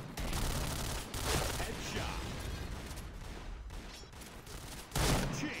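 Rapid bursts of gunfire ring out in a shooter video game, several loud volleys in quick succession with brief pauses, and players talk over the shooting.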